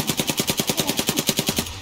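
Video game gunfire during an ambush on a bridge: a steady, rapid automatic burst of about sixteen evenly spaced shots, loud and close, with no talk over it.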